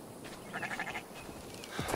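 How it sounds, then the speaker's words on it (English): A sheep in a video game gives a short, faint, wavering bleat over a quiet noisy background, lasting under a second, with no speech. "The sheep follows my whistle."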